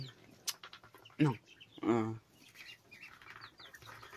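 A Java blue hen gives short clucks and low calls among other soft bird sounds, with someone talking nearby and a brief flutter-like burst in between.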